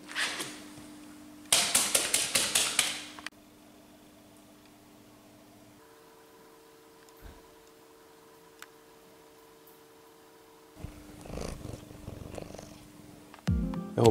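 A domestic cat purring up close, a steady low rumble running through most of the stretch, broken by bursts of louder rustling and handling noise near the start and end, with no talking.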